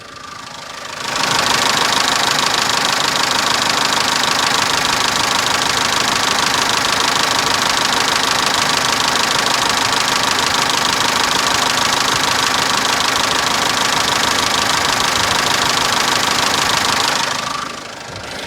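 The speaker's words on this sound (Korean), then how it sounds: "엔진 소리 바로 들려드리도록 하겠습니다" A Korando C diesel engine, not a CRDI type, idles steadily up close, a continuous rumble with a faint knocking texture that starts and stops cleanly, no voices.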